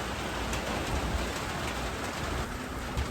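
Heavy rain pours over a Florida summer garden in a dense, steady hiss of drops hitting surfaces, loud and close with no voices.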